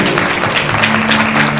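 A large seated crowd claps in applause during a Hanuman Chalisa religious discourse, with dense, even clapping that is loud and close, holding over a steady hum.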